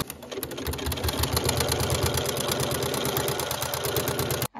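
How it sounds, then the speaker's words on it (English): A sewing machine top stitching around a flannel pee pad, its needle hammering in a fast, even rhythm that runs steadily for several seconds and then stops abruptly. "I'm just gonna top stitch all the way around."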